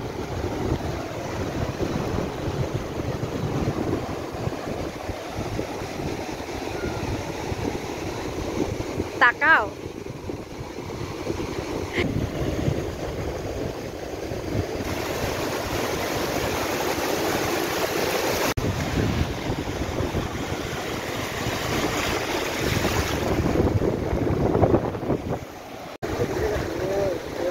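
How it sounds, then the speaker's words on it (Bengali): Sea waves wash ashore at Digha beach, a continuous broad surf roar mixed with wind buffeting the microphone, with people talking briefly over it. "তো ফাইনালি দীঘা সমুদ্র সৈকতে আমরা চলে এসেছি"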